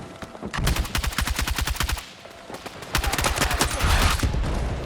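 Automatic gunfire in Battlefield 6, loud rapid bursts of shots in quick rhythm, pausing briefly around the middle before resuming heavier and more continuous.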